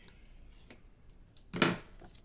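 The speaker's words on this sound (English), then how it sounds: "I'm going to remove the tape backing from the bottom" Tape backing peeled off paper on a Christmas trifold mini album, heard as one short close rasping rip after faint handling rustles, with quiet background otherwise.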